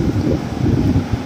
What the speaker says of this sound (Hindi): देखिए काफ़ी तेज़ हवा चल रही है